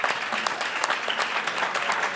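An audience at a community partnership breakfast claps steadily, a dense, continuous round of applause from a room full of people, close and fairly loud, without speech.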